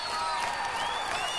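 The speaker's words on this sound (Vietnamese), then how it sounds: "nghe những tràng pháo tay và cả những tiếng hú, tiếng hò reo nữa" Concert audience applauding and cheering after a song in a live medley of love songs, a dense steady wash of clapping with whoops and shouts running throughout.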